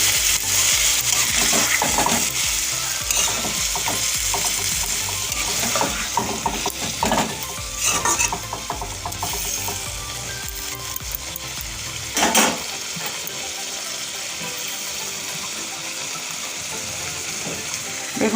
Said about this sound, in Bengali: এবার আমি সামান্য পরিমাণ একটু জল দিয়ে 2-3 মিনিট ফুটিয়ে নেব।